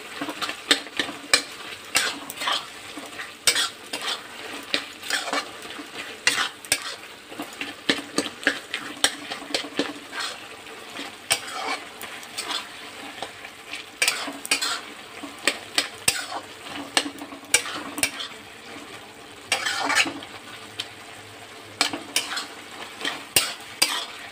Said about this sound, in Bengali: একটু নাড়াচাড়া করি, নাড়াচাড়া করে একটু এটাকে খেতে দিই